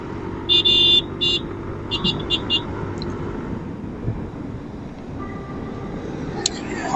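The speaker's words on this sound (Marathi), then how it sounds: "यार खूपच ट्रॅफिक आहे यार, खूप ट्रॅफिक आहे आज." Heavy road traffic passes around a rider on a motorcycle, a continuous low rumble of engines with several bursts of sharp horn honks near the start and another later, some talk mixed in.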